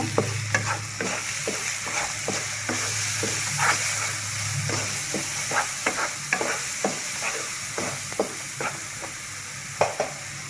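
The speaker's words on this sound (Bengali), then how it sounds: "মশলা আমার কষানো হয়ে গিয়েছে" Spices for a hot beef curry sauté in a pan with a constant close sizzle, broken by repeated spoon scrapes and stirs at a steady, uneven rhythm.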